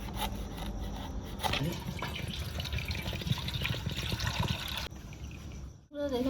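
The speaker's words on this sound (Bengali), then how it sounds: "এই জলটা বন্ধুরা চিকেনটা ভরে দিচ্ছি এর ভিতরে" Water is poured into a pot over chicken for a coconut handi chicken dish: a steady, close splashing trickle runs throughout, then stops with a gurgle near the end, while a person talks.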